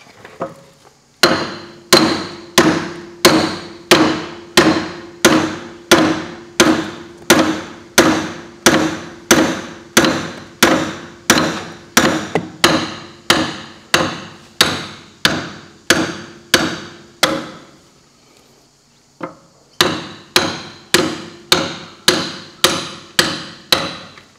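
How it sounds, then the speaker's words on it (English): A cold chisel struck with a hammer on the bell crank of a Massey Ferguson 20 tractor, a long steady series of sharp metallic blows, close and loud, with a brief pause before the hammering resumes. "We might see if we can get a little coal chisel or something like that to open him up"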